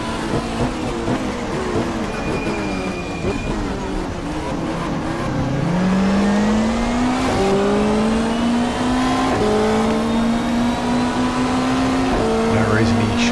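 A 1995 BMW Super Touring car races at Symmons Plains, its engine revving high and climbing through the gears as it accelerates toward turn one, loud and sustained under a commentator's voice.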